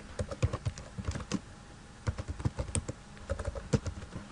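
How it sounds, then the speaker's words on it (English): Someone types a name on a computer keyboard: quiet, close, irregular clusters of key taps with short pauses between bursts, and no talking. "You can type your full name, or you can type a different name."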